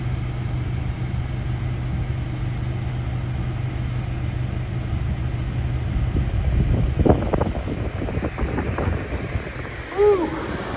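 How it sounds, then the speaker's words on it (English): Strong wind on Bear Mountain roars and buffets against the microphone in a continuous low rumble that gusts harder toward the end. "windy as hell. Oh my gosh, it was windy."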